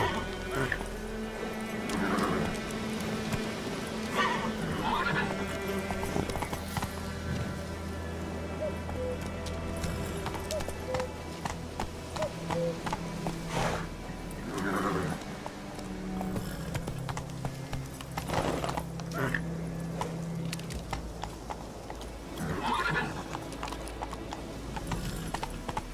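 Roach the horse gallops in The Witcher with a loud, rhythmic clip-clop of hooves throughout, broken by several sharp neighs and whinnies, while a rider calls out to urge it on.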